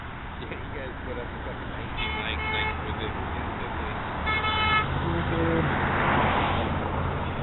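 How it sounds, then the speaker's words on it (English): Car horns toot repeatedly at a street protest march outside the Cowlitz County Courthouse, with several short honks from passing traffic under steady road noise and crowd voices. "Is a honk in real life like a like on Facebook?"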